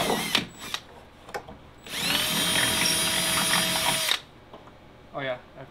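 A power drill bores a quarter-inch hole into a plastic fuel tank during a diesel heater install in a cargo trailer camper, whining steadily for about two seconds up close, with brief handling clatter and a few spoken words around it.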